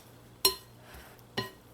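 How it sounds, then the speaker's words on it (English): Two sharp metallic clinks of a perforated spoon against a bowl while shark pieces are tossed in flour for Trini bake and shark, the knocks spaced about a second apart over a faint low hum. "I'm using this perforated spoon. I'm going to mix the shark into the flour,"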